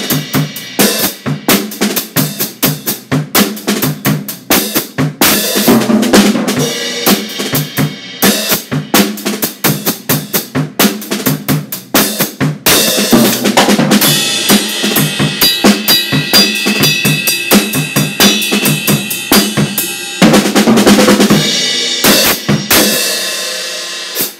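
A 1975 vintage Slingerland drum set is played loud and close, with dense rapid snare and tom hits, crashing cymbals, and a busy, driving flow that swells midway and runs on without any voices.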